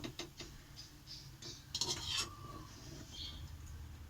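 Fried palm fritters are lifted out of hot oil in a pan, with a soft sizzle, scraping of a spatula and a few light metallic clinks close by.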